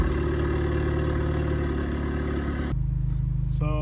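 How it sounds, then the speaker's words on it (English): A 2018-2020 Honda Accord Sport 1.5T, stage 2 with downpipe and resonator and muffler deleted, idles after a cold start. Its loud, close droning exhaust settles to a lower, steadier tone near the end. "That's a cold start."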